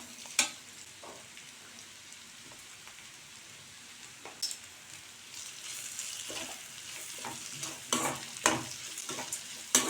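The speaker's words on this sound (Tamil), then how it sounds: "மிளகாத்தூள் போட்டு கொஞ்சம் கிளறிட்டு" Bitter gourd is stirred with chili powder in a pan, quiet sizzling with intermittent sharp scraping clicks from the spoon that grow busier toward the end.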